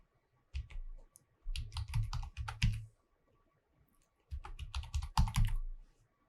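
Close, quiet typing on a computer keyboard in two bursts of rapid clicking keystrokes, separated by a short pause.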